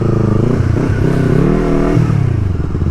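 A Kawasaki Dominar 400 converted into a supermoto motorcycle revs close by, a loud, rough engine note that swells and falls once before settling back to a steady idle-like rumble.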